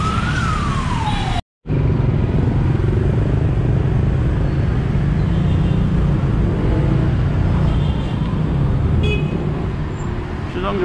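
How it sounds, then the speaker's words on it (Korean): Busy street traffic thick with motorcycles roars steadily past a traditional market in Ho Chi Minh City, a dense continuous engine drone with occasional horn toots and a passing siren, loud and close throughout. "시장 주변에는 뭐 이런 오토바이가 많이 다닙니다."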